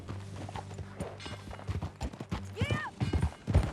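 Hooves clip-clop steadily as a horse is ridden in Red Dead Redemption 2, a rhythmic clatter over low game ambience with a brief whinny and voices talking over it.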